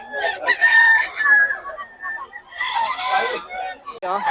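A gamecock crows loudly nearby at a rooster sale in Bocaue, one long call followed by another, with some clucking and background chatter around it.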